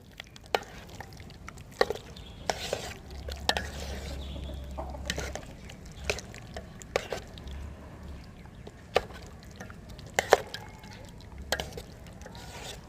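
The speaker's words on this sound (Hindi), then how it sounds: "अच्छे से मिक्स कर लेंगे।" Pieces of chicken being stirred and turned through wet batter in a home kitchen, with soft squelching and scattered clicks and taps from the bowl, close and moderately loud.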